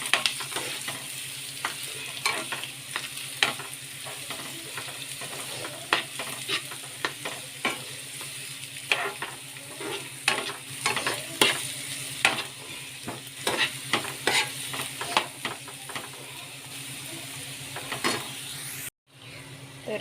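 Onion fries in plenty of oil with cumin and asafoetida for a spiced cabbage dish, a constant close sizzle marked by frequent clicking spatula strokes, then a sudden cut near the end.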